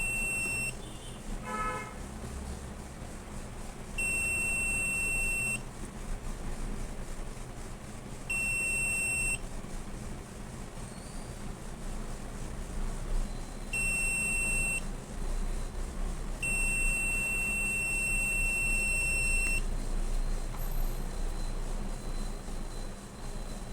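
An electronic buzzer triggered by a light sensor circuit sounds in several separate high-pitched tones of varying length, spaced irregularly over a low steady background hum.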